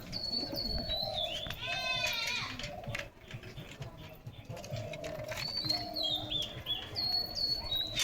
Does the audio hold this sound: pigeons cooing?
yes